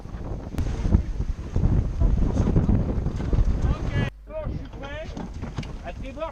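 Heavy wind roars across the microphone as a racing sailboat rushes along through the water on a beam reach, then eases as a voice speaks briefly.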